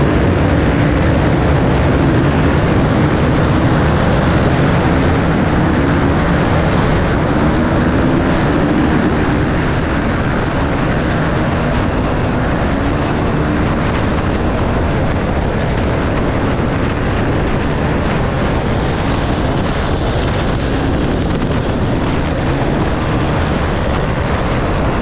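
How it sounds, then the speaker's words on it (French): Enduro motorcycles accelerating together at a sand beach race start, a dense, loud, continuous roar of many engines blending into one wall of sound. "tu vois les motos devant toi accélérer, ça fait des gerbes de sable et là tu comprends que c'est le départ"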